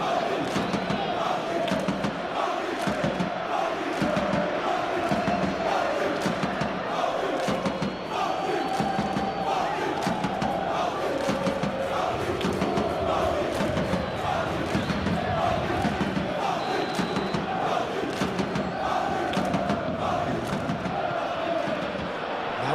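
Stadium crowd in a PES football video game match between PSG and Liverpool, a dense continuous roar of cheering spectators that swells throughout, with a commentator talking over it.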